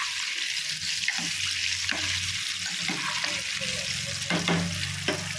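Homemade KFC-style chicken fries in hot oil with a dense, steady sizzle, and a few louder knocks and scrapes as pieces are moved. Close and continuous with no talking.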